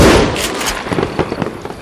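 Video game gunfire in Call of Juarez: Gunslinger, an Old West shooter: a loud sharp shot followed by a quick scatter of lighter cracks and impacts, close and punchy, with no voices.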